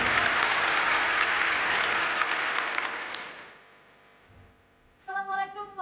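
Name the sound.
audience applause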